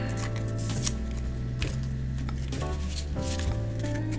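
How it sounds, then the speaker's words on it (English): Small Kipper and Lenormand fortune-telling cards are shuffled by hand, giving soft, rapid riffling bursts that recur several times in close, quiet succession. "Let's just give it a little shuffle."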